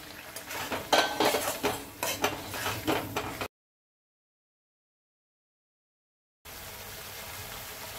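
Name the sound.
eggs being sautéed and stirred in korma masala in a pan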